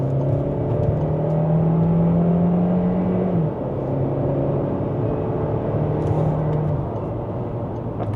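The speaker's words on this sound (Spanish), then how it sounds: "Vamos a ver aquí una acelerada desde 63" A Dongfeng Aeolus Huge car accelerates from 63 km/h, its engine giving a steady, loud whirring drone under continuous road rumble that drops slightly partway through and then carries on evenly.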